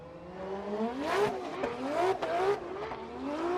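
A Formula Drift car launches off the start line at Irwindale in qualifying. The engine revs rise in three quick climbing pulls through the gears with some tire noise, loud and fairly close, and no voices.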